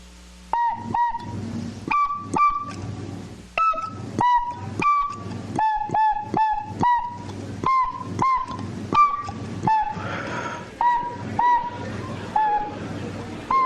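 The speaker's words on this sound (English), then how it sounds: "Let's play another song on the good old tin whistle here." A tin whistle plays a song: a run of short, bright, reedy notes tongued one after another in a steady, lively rhythm, close and loud with no talk over it.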